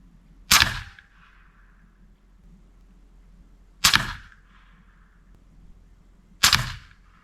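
Three air rifle shots fired through a 3D-printed suppressor, each a sharp, short crack with a brief ringing tail, spaced a few seconds apart against a quiet background.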